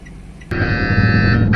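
A GoCar ride-hailing app order alert on a phone, a sudden loud buzzing tonal notification that starts sharply and sustains for about a second, heard inside a vehicle with low road rumble beneath.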